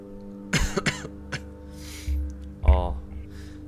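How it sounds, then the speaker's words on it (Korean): A few harsh coughs and throat-clearing bursts from a man with a lingering cold, close to the microphone, spaced out over a few seconds against a steady low hum of game audio. "영상 찍을 때 기침을 좀 할 수 있어요"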